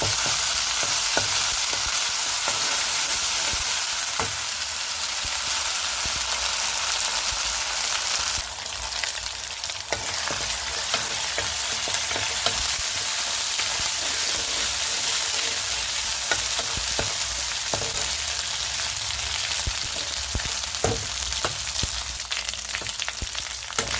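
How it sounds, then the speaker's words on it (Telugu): Ginger garlic paste frying in a pan with chilies and onions, a loud, steady sizzle that continues without a break and includes occasional stirring scrapes, with no one speaking. "అల్లం వెల్లుల్లి పేస్ట్ కూడా వేసుకొని మొత్తం ఫ్రై చేసుకున్నాము."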